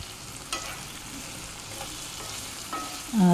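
Tomato chutney with peanuts frying and softening in a pan on a stove, with steady low sizzling, a few soft stirring scrapes, and a louder clatter of the pan right at the end.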